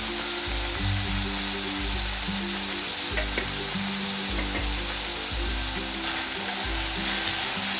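Half a spoon of turmeric goes into a loud, continuously sizzling pan of spring onion pithla, the frying hiss steady throughout with occasional soft stirring scrapes and no talk.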